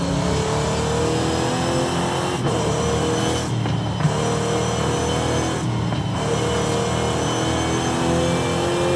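A sleeper car's engine in a video game revs steadily and loudly, a dense continuous drone with brief dips in pitch, alone with no voices.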